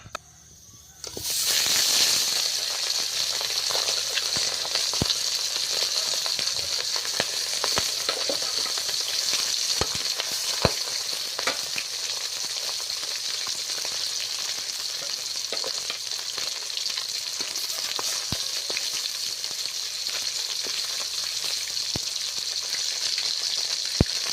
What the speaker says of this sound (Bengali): তেলটা গরম হয়ে গিয়েছে তবে মাছটা ভেজে নেবো